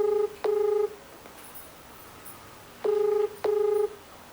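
Two pairs of telephone keypad tones as a call is dialed, each a steady electronic beep repeated twice, close and clear with a pause between pairs and no talking.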